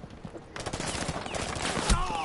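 Bursts of automatic gunfire in the video game Rainbow Six Siege, starting after a quiet half second and continuing as a dense rattle of close shots with one sharp louder hit near the end.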